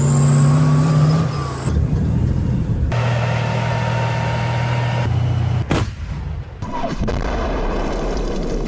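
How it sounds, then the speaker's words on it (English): A Bradley fighting vehicle drives under heavy shelling, its engine and tracks a constant loud rumble and whine, broken by a few heavy booms and blasts from the shelling around it. "Bradley drives to Russian positions under heavy shelling"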